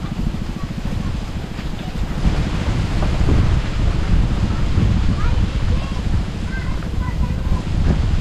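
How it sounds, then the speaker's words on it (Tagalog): Strong wind buffets the microphone outdoors in a continuous rough roar, with faint distant voices and chirps scattered underneath. "grabe, lakas ang hangin."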